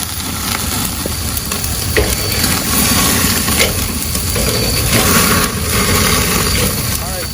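Ribeye steaks sizzling on a Weber kettle grill, a steady crackling hiss throughout with someone talking over it.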